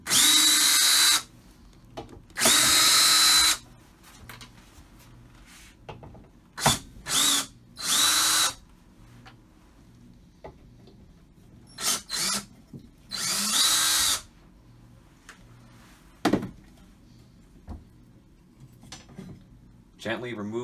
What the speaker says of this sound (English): Take your drill or screwdriver and remove the four screws that hold the back